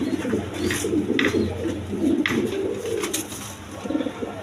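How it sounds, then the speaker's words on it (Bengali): A pair of blue bar Lahori pigeons coo in a steady, overlapping series of low rolling calls, close by, with faint background noise and no voices. "এখানে এক পেয়ার লাহরি কবুতর আছে"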